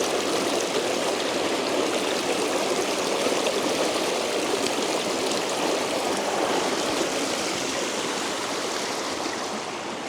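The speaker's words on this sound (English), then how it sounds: "Get some water from the river here. Good fast flow on it." A fast-flowing river stream rushes steadily and continuously, a dense, even roar of water close by with no voices.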